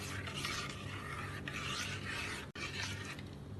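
Almond milk is stirred briskly in a bowl, giving a continuous close scraping swish that breaks off once briefly.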